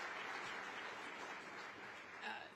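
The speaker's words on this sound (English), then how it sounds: "Let's give her another round of applause." A conference audience at a faith forum applauds steadily, a dense wash of many hands clapping throughout, fairly distant and even, with a faint voice rising near the end.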